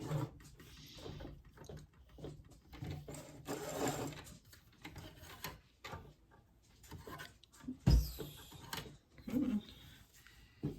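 A sewing machine runs quietly, stitching a crimping effect into fabric. Its soft mechanical whir is heard up close in the first half, then it falls silent apart from a brief knock and faint handling sounds.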